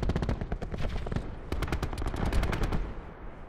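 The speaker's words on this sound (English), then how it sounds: "Stop shooting me in the back" Rapid automatic gunfire in a video game, sharp shots in close, fast bursts with brief gaps, loud and up front with no talking over it.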